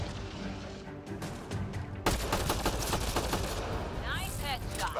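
Gunfire in the video game Mass Effect Andromeda, rapid bursts of shots that grow denser and louder halfway through, with crackling impacts and a voice speaking over the firefight.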